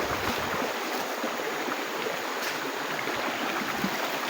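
Water from a shallow stream rushes and splashes in a continuous, dense wash close by as someone walks through it outdoors, with no talk over it.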